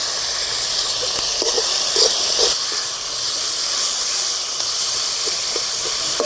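Chopped tomatoes sizzle and hiss steadily in a pan after being added to browned onions for a potato white kurma, a constant close frying noise with faint small pops and no talking.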